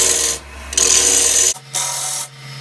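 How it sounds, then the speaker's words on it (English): Walnut bowl turning on a woodturning lathe at 1400 RPM, with the tool cutting in loud, rasping bursts separated by brief pauses. "I'm going to get some wood out of the way so we can work on the rim."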